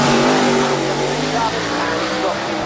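Euro NASCAR series race cars accelerating hard at the Goodwood Festival of Speed, a loud, close engine roar with rising harmonic pitch that holds steady throughout with a faint voice in the background.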